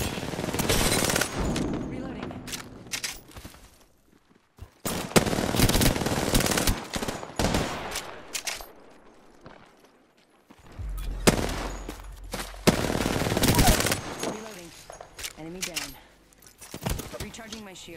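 Automatic gunfire and fast bursts of shots in a squad-based shooter video game, played as Wraith. The bursts come in dense clusters, loud and close, with gaps of quieter ambience between them, and players talk over the action.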